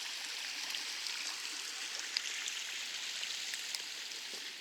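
Water seeps and trickles through a rock terrace on an eroded slope, a steady, hissing outdoor babble like a small stream, fairly faint and unbroken.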